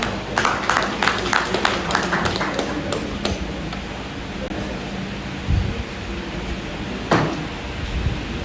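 Audience clapping at a school alumni association's graduation ceremony, a scattered burst of claps in the opening seconds that thins out, heard in a reverberant hall with murmuring and room noise.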